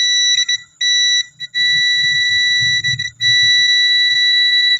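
A multimeter on continuity test gives a loud, steady high-pitched beep, cutting out briefly several times as probe contact breaks, with faint low murmuring underneath.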